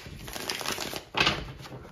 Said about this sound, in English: I'm going to have to give it a pre-shuffle.